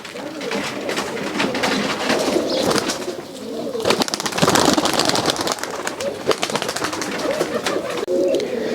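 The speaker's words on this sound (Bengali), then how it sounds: "আর এই কবুতর দেখেন, নর মাদি দুইটা একই রকম কবুতর।" Pigeons coo over and over at a Rajshahi pigeon farm among male and female birds, a dense layer of overlapping throaty calls and rustling that runs loud and close throughout with no break.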